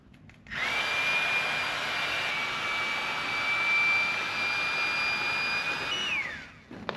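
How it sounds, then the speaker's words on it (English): Battery-powered air pump with a fan inflating a sleeping pad, switching on with a steady, loud, close whine and rush that holds for about six seconds before cutting off. "The main thing I use for is the pump itself"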